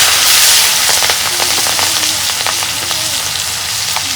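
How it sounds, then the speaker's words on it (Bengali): Chopped onion and green chili hitting hot oil in a pan, a loud, dense crackling sizzle close up that stays steady throughout with brief bursts of spattering. "তেল দিছি, তেলের মধ্যে মশলা দিব। পেঁয়াজ কুচি,"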